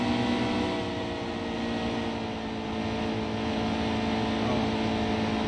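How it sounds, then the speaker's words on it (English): A racing truck engine in the NASCAR Heat 2 video game, during a truck race at Kentucky, drones steadily at high revs, a dense mechanical roar with a slight dip in pitch midway as the engine loses RPM and bogs down. "You can almost just hear the engine just losing RPMs and getting bogged down"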